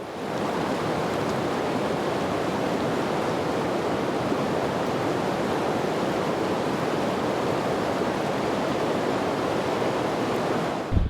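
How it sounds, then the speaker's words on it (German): The Numedalslågen, a rushing salmon river in southern Norway, roars with a loud, unbroken wash of turbulent water, steady and close for the whole stretch. "Weiter unten im Tal stießen wir auf einen reißenden Fluss, der von der Hardanger Widder gespeist wird."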